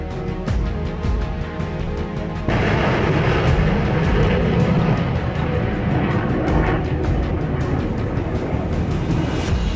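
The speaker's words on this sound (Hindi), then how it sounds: "पोखरण में भारतीय सेना के रुद्र हेलीकॉप्टर और हवाई ताकत ने सीमा पर बैठे दुश्मनों में दहशत जरूर पैदा की होगी।" Dense, steady rotor and engine roar from an Indian Army Rudra helicopter flying during a military exercise at Pokhran, Rajasthan, loud and close, swelling slightly after a few seconds, with no talk.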